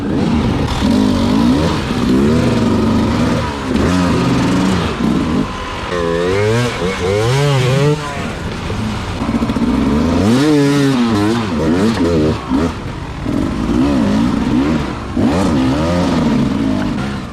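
A dirt bike races in the 2021 SEER Saddleback Xtreme hard enduro, its engine loud and close, revving up and down in repeated surges with clattering over rough terrain.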